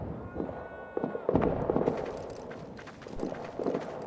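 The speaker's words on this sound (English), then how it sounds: "Those explosions better go away." Explosions in the World War I trench game All Quiet in the Trenches: scattered dull booms and sharp cracks, fairly faint, in a rough irregular sequence with low background rumble.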